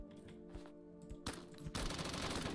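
Rapid automatic gunfire in the Roblox shooter BRM5, with a few separate shots first and then a dense, sustained burst of heavy-recoil fire near the end.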